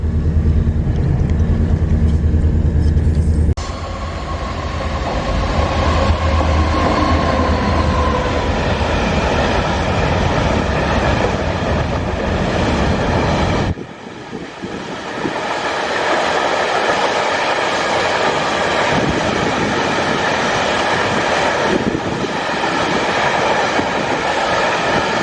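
A train rumbles past at close range near Derby maintenance sidings, a continuous loud roar of wheels and carriages with rhythmic clatter that shifts partway through.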